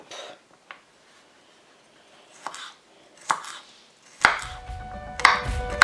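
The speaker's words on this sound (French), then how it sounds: "Et là maintenant, on va venir le couper en petits morceaux." A knife chops garlic into small pieces on a cutting board, a few sparse taps at first, then a louder, denser burst of close chopping and board clatter near the end.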